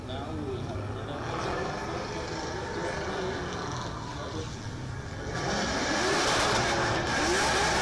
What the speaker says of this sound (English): So we can hear some cars warming up down the back end of the circuit.